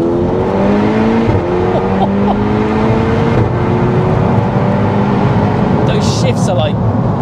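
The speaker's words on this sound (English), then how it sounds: "Those shifts are like snaps." Stage 3 tuned Audi S3 8P, 455 bhp, under hard acceleration, its engine note climbing steadily with quick, snappy gear shifts, loud and close throughout.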